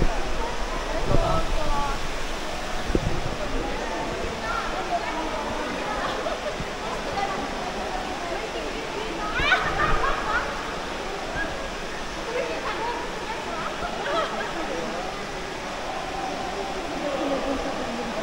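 Steady rushing water echoes inside Sumaguing Cave in Sagada, Philippines, with scattered voices and occasional footsteps.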